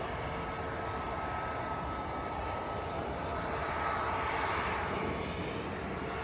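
TUI Boeing 737 Max lining up for departure to Tenerife South at Manchester Airport, a steady broad jet engine rumble and whine holding even throughout, moderately distant.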